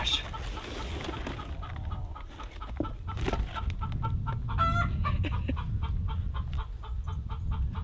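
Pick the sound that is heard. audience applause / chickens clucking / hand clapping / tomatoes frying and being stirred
chickens clucking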